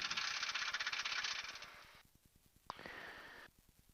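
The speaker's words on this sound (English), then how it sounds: "that's the stick shaker being tested here" An aircraft stick shaker stall warning under test: a loud, rapid mechanical rattling buzz for about two seconds, a pause, then a second shorter burst with a sharp click at its start.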